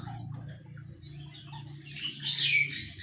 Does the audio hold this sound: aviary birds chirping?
yes